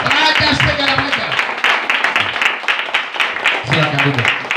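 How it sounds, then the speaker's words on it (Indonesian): A church congregation stands for a Christmas 2022 sermon and applauds in a standing ovation, with steady dense clapping from a crowd and a voice speaking over it. "Berdiri baru tepuk tangan."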